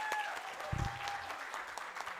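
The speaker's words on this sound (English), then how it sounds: "Can we have a huge round of applause for that?" An audience applauds at an ISCCM Day celebration before an anthem launch, a continuous, moderately quiet patter of many hands clapping, with a brief low thump partway through.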